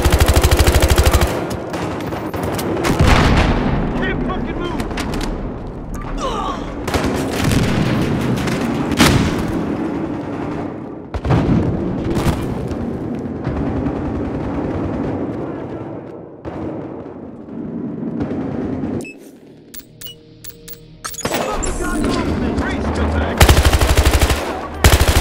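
Heavy automatic gunfire and booming explosions in Battlefield Hardline, with loud rattling bursts and sharp blasts, dense and continuous for most of the stretch, a brief quieter gap, then renewed shots.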